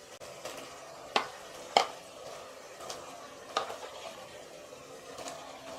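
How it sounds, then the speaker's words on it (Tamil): Spoon stirring chicken with onion, tomato and yogurt in a pressure cooker for chicken biryani, a few distinct scraping clinks over a faint background hiss, quiet and close. "சிக்கன் போட்டு நல்லா கிளறி விட்டுருங்கம்மா"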